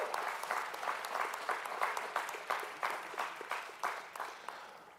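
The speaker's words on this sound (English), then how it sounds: "let's give them a great big round of applause" Graduation-ceremony audience applauds honored high school students, the clapping thinning into a distinct rhythmic pattern of pulses that gradually fades toward the end.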